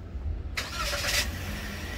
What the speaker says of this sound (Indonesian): ketika mesin dinyalakan